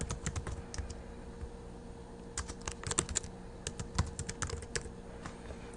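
Rapid, irregular clatter of keys on a computer keyboard as a folder name is typed, steady bursts of close clicks with brief pauses and no talking.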